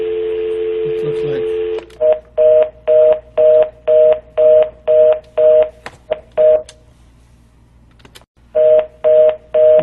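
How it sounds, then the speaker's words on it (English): Telephone line tones on a call-in show: a steady tone gives way to a rapid series of about a dozen evenly spaced electronic beeps, loud and clean, pausing briefly before resuming. "Looks like we have some technical difficulties with the phone."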